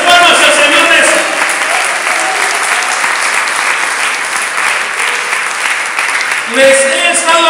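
A congregation at a Spanish-language church service claps for the Lord, loud, sustained applause filling the room, with a voice rising over it near the end.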